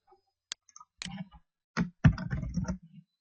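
Computer mouse clicks on a link: a few sharp, separate clicks close by, then a denser burst of clicking and tapping toward the end, with no one talking.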